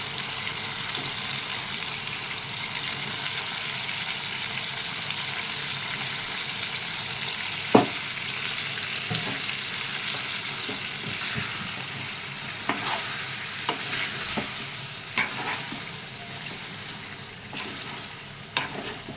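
Potatoes frying with chicken curry in a pan, a steady broad sizzle running throughout with occasional sharp clinks and scrapes of stirring, fairly close and unaccompanied by talk.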